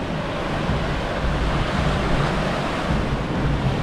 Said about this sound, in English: Depending on the wave, now the water washes out